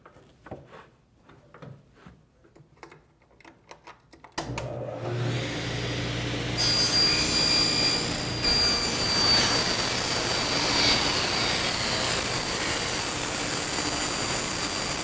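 A table saw spins up and runs loudly and steadily while cutting off the runner of a panel-cutting sled in its groove, after a few seconds of quiet shop handling noises.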